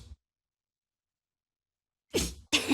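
A single sharp human sneeze, close and loud, arriving in two quick bursts after a stretch of silence.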